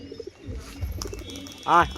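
Pigeons coo in a loft of fancy breeding birds, with soft cooing and rustling early on and one loud, close burst of cooing near the end; no talk.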